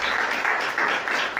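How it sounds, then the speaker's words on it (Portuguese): A church congregation bursts into brief applause, a soft, dense patter of many hands clapping, moderately distant and steady for about a second and a half. "Quem crê pode aplaudir, pode glorificar."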